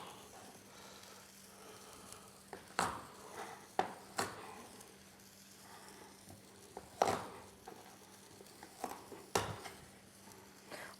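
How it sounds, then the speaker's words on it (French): Knife cutting artichokes into quarters on a board, a few sharp, separate chops and knocks spaced irregularly, faint and close, with quiet kitchen background. "les artichauts que je vais couper en quartiers"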